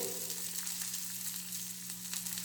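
Chicken with coriander powder frying in hot oil, a steady, dense sizzle that holds evenly throughout with a faint low hum underneath.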